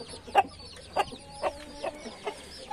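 A brooding hen with chicks clucks in a coop, sounding five or six short, soft clucks at a steady, unhurried pace, close by and otherwise quiet.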